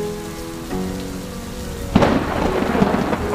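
Heavy rain pours in a steady hiss as a loud crack of thunder breaks in midway, followed by rumbling and dense, close downpour; a low tonal hum sits under the opening seconds.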